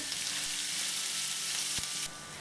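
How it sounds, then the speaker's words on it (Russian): Minced meat and garlic frying in a pan, a dense steady sizzle close up, with one brief knock of the spoon or pan partway through. "Дальше добавляем фарш, промешаем все как следует."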